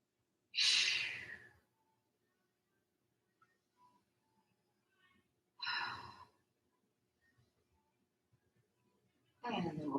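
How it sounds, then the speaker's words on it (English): Slow, deep breaths during a Pilates twist: three long, close exhalations about five seconds apart, separated by near silence. "And then take about 3 breaths here."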